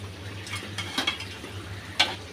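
Pieces of cooked hilsa fish are lifted onto a plate, with soft scraping and light metallic clinks of a utensil against cookware and one sharper clink near the end, close by and fairly quiet.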